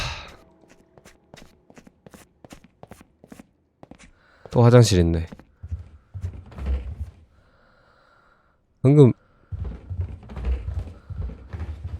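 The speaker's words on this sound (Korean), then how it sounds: "내 발소리 말고 다른 발소리 들린 것 같은데" Soft, regular footsteps echo through the empty tiled pool rooms of the horror game POOLS. The steps fall in a steady rhythm, broken by spoken commentary and a couple of louder bursts.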